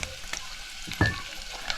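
Onion frying in a spiced tempering over a wood-fired stove, a steady low sizzle with stirring scrapes and a brief louder clatter near the middle.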